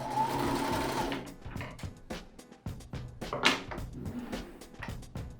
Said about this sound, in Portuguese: de novo eu vou ir para frente e para trás para firmar mais a costura